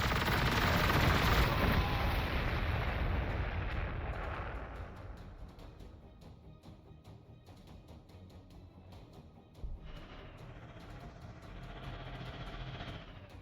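Long-range weapon fire in the sci-fi strategy game Warhammer 40,000: Gladius: a heavy blast at the start rumbles into a long fading roar, followed by quieter crackling fire and another swell near the end.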